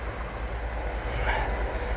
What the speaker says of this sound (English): Blooming trains.